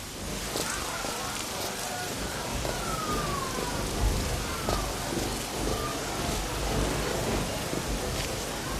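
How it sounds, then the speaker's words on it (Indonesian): Steady rain falls throughout as a broad, dense hiss, with faint whistling tones and a low rumble of background noise mixed in. "Lihat hujan ini."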